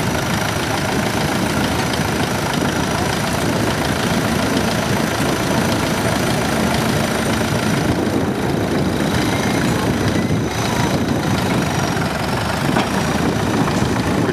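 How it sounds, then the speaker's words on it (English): Diesel tractor engines, among them a Super MTA diesel, run at a tractor show, a loud continuous rumbling idle with steady low throb and no breaks. "looks like the boys are firing up the rest of the diesels here"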